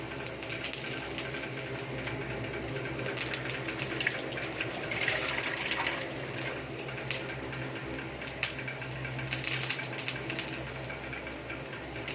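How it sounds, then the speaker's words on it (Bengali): Tap water runs steadily into a kitchen sink as raw chicken is washed, a continuous close splashing gush with scattered clatters and no talking. "চিকেন হিসাবে ভালো করে ধুয়ে নেওয়া হচ্ছে"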